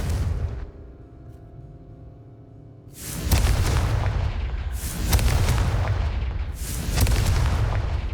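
Confringo spell explosions in Hogwarts Legacy, three heavy booming blasts with rumbling tails, following a quiet stretch of low ambient tone.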